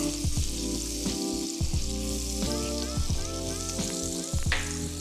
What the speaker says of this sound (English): I'm gonna go ahead and add my butter. We're gonna go ahead and let this go ahead and melt.